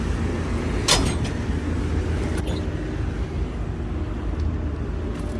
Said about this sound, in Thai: เครื่องยนต์ 6D107 นะครับคอมมอนเร็ว6สูบของโคมัสูนะครับ